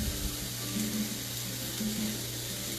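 Peppers and onions caramelizing in a pan give a steady, even sizzle with a low background hum throughout, close and moderately loud.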